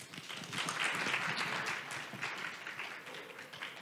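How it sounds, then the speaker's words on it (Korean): Audience applause at a disability forum session in Pyeongchang, a steady dense wash of many hands clapping at moderate distance, fading slightly toward the end. "박수는 이미 쳐주셔가지고"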